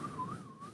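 A person whistles a wavering tone that imitates wind, rising and falling smoothly over a brief moment, close and fairly soft.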